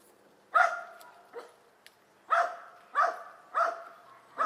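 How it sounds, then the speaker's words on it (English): A dog gives sharp barks and yips at squirrels outdoors, about five or six separate outbursts spaced irregularly, the last few coming in quicker succession, fairly close and clear against a quiet background. "he loves to bark at the squirrels and chase the squirrels"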